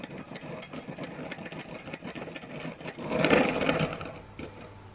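A steady, soft rattling whir of milk and cardamom powder being whisked for an Indian ras malai milk cake continues throughout and swells briefly near the end, with no voices.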